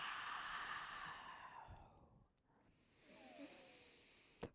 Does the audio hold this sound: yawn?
yes